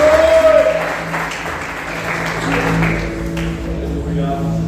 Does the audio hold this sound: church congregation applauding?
yes